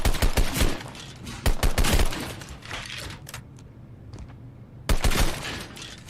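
Pistol shots in a video game fire in quick sharp bursts, several close cracks in a row, then a pause and another cluster of loud shots near the end.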